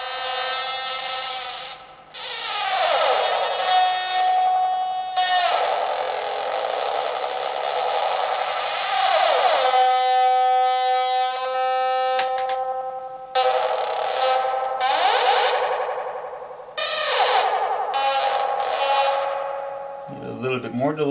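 Sustained electronic tones smeared by echoing delay and reverb from a PT2399 delay circuit, with repeats trailing off and swelling, loud and close, no talking.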